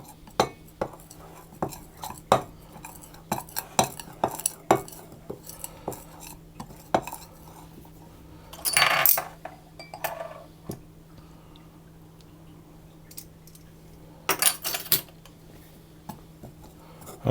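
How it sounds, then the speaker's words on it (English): Pie dough for a bacon and egg pie being mixed with ice cold water, a utensil clinking and scraping against a bowl in scattered taps and short bursts, close and fairly quiet, with no talking. "I'm going to mix it around until it starts to clump together"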